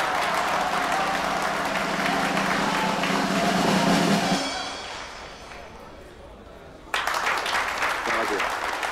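An audience in a dance hall applauds to welcome a singer, with steady loud clapping for about four seconds that fades out, then a sudden burst of renewed clapping.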